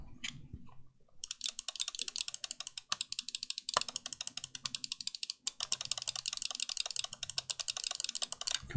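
A Razer Basilisk V3 Pro wireless gaming mouse clicks in rapid, steady bursts, close and crisp, with short pauses between runs and no talking.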